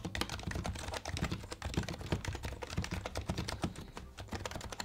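Typing on a Happy Hacking Keyboard Professional Hybrid Type-S, a quick continuous stream of soft, muted keystrokes close up, quiet and even with no voices.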